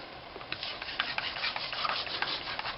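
Ink smeared across the raised top of an embossing folder gives a soft, steady, close rubbing and scraping in quick back-and-forth strokes, quiet and with no voices.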